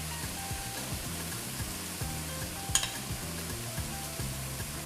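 Wild garlic filling with ghee frying and sizzling over medium heat, a steady soft crackle with faint background music underneath.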